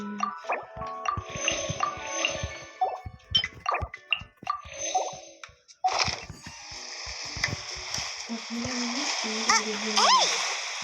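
Water splash as a character drops into a pool in the video game Genshin Impact, set among busy game sound effects and short vocal noises, followed by a steady watery wash.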